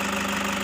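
Engine of a 2014 Toyota Hiace Super Grandia automatic van idling after a camshaft oil seal and timing belt replacement, a steady, even low hum with a faint rhythmic tick, heard briefly and alone.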